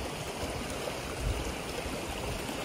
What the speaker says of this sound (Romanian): Uitați ce frumos e izvorul ăsta aici.